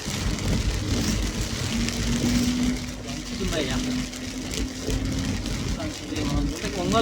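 Heavy rain pours down continuously in a steady, loud hiss, with a low hum and faint voices mixed underneath.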